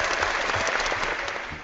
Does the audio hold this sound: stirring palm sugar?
no